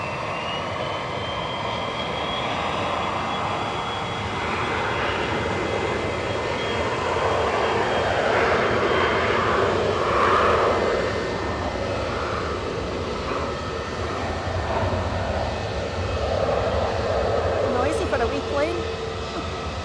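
Airliners departing one after another from Edinburgh Airport, a broad steady jet roar holding at moderate distance for the whole stretch, with a faint rising whine and a person talking over it.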